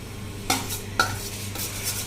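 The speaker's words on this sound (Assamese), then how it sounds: "ভাতকেইটা ভাজি দিছে মুনুৱে" Leftover rice is fried and stirred in a pan. A spatula scrapes and clinks twice against the metal, and a soft sizzle continues underneath.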